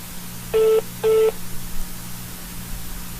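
Two short electronic telephone beeps sound in quick succession over a faint line hum while a call is on hold, then the line goes quiet.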